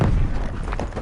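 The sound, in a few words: flashbang grenade in video game Call of Duty Cold War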